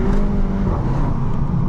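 A Mk7.5 Volkswagen Golf GTI engine drones steadily up close, its low hum rising slightly as the car accelerates, with no voices over it.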